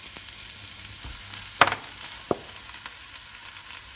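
Vegetable tagliatelle with onions and peppers fries in peanut oil, a steady soft sizzle with a couple of sharper crackles and stirring scrapes, close by and quiet, with no talking.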